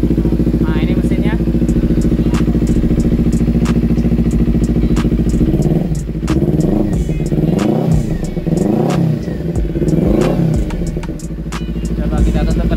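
A Kawasaki Ninja 250 FI with a racing exhaust idles loudly and steadily up close, its low throbbing hum continuous, with a few brief revs and clattering sounds partway through.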